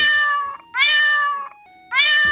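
Two cartoon cats quarrel over a piece of bread, trading three loud, drawn-out meows in quick succession with short pauses between them.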